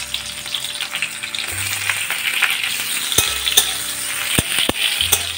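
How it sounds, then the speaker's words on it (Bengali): Capsicum frying in hot oil crackles in a continuous close sizzle, punctuated by several crisp metallic taps and clicks of stirring, with a low thump now and then. "ক্যাপসিকামগুলো একটু হালকা করে ভেজে নেব।"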